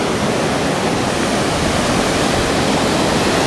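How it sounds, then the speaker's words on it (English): The waterfall at Warwick Castle rushes in a loud, steady, broadband roar heard up close, with no talking over it. "As you can see here, the water is falling down."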